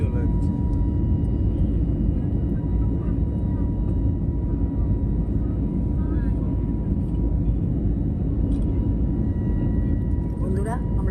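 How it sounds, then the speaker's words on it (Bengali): Steady, loud engine roar fills a passenger airplane cabin as it climbs into the sky, a constant rumble with faint background voices. "আমরা এখন প্লেনে, আমরা এখন আকাশে উঠছি, উপরে উঠে গেছি"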